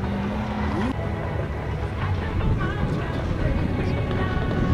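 A rally car at full throttle on a dirt trial course at Speed Park Koinoura, its engine roaring over gravel noise during an S1 class heat, with an announcer talking over it.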